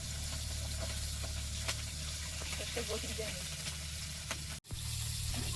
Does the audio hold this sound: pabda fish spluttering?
yes